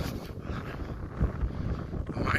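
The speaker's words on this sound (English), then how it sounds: "I'm walking like directly into the wind right now" Wind buffets a microphone while hiking across the gypsum dunes of White Sands in New Mexico, a steady low roar with gusts that swell and fade, close and fairly loud, with no talking.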